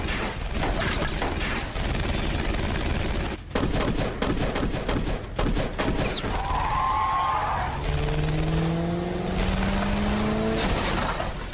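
Mercenaries open fire in The Purge: Election Year, with loud bursts of automatic gunfire that come in dense rapid clusters, mixed with vehicle noise and sliding tonal sweeps, and then settle into a steady rumble.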